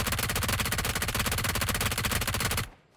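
Rapid automatic gunfire rattles in a continuous dense burst during a PUBG duo match, loud and close, before cutting off abruptly into near silence.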